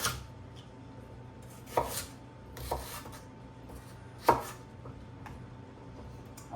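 A knife chopping firm celery on a board for a Greek yogurt salad, a few sharp, separate cuts spaced out at close range with no talking.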